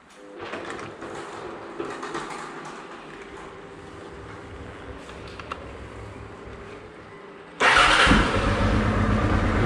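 Honda Transalp 650 motorcycle, modified with a Rally Alp Boano headlight, cranks with a steady starter whir before the engine catches near the end and settles into a loud, close, continuous running roar.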